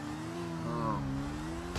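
A motorcycle engine in Grand Theft Auto V droning steadily with a slight rise in pitch, a continuous mid-level game engine tone over low background noise.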